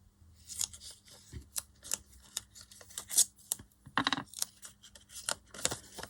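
Scissors snip around washi tape stuck on paper in a watercolour journal: many crisp, close cuts in irregular bursts, with small rustles of paper between them and no voices.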